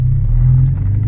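A 1989 Porsche 944 Turbo pulls away with a steady, loud low engine rumble dominating throughout, briefly easing near the end of the short moment.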